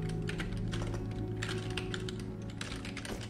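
Rapid keystrokes on a computer keyboard tap out a console command for Elder Scrolls IV: Oblivion, a close, quiet run of uneven clicks with short pauses and no talking.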